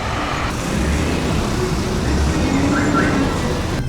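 A shared car on the road to Uribia, Colombia, heard from inside as a steady, close road rumble and engine drone, with broadband tyre noise and no clear talk.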